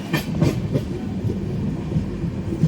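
A passenger train on the Chennai to New Jalpaiguri run rolls through West Bengal in the evening with a close, continuous low rumble and rhythmic clickety-clack of wheels over rail joints.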